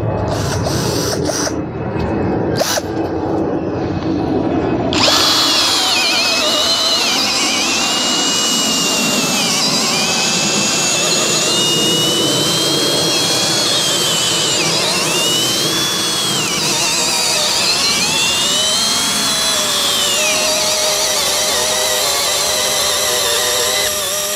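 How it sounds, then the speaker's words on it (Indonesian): A Nagawa NCD16B cordless brushless drill at speed 1 in drilling mode bores into wood with a 12 mm wood bit, starting after a few seconds of quiet with a loud, sustained whine that wavers with load. "Di sini saya menggunakan kecepatan yang nomor 1, modenya mode drilling, dan saya menggunakan mata bor kayu ukuran 12 mm."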